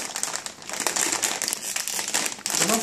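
A snack bag of banana chips is opened, giving steady crinkling and crumpling of the packaging throughout, close and fairly loud with no talk.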